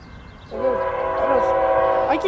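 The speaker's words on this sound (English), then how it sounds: "Alright, surprise NS train." A Norfolk Southern freight train sounds its horn nearby, a loud sustained multi-tone blast that starts abruptly and holds steady, with rail rumble underneath.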